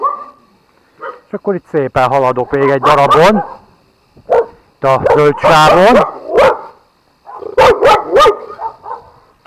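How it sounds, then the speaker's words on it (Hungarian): Several dogs bark at houses along a roadside walk between the Nosztori rest area and Nemesvámos. The barks are close and loud, come in repeated bursts with short pauses, and someone speaks briefly. "közben a kutyák ugye ugatnak, hisz ez a dolguk, hogy ugassanak, hogy őrizzék a házakat"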